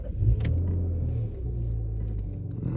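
A Rover 75 V6 automatic car engine starts with a brief crank burst, then settles into a steady, low, close idle rumble that continues alone.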